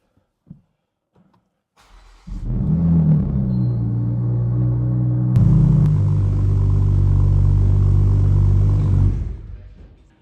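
A Toyota A90 Supra engine cranks and catches, then runs at a steady, loud, close idle for about seven seconds before shutting off, with no talk.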